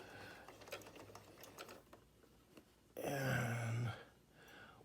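A sewing machine stitching a cloth mask, with faint clicks and handling noise before a loud one-second burst of steady motor whirring, close up and without speech.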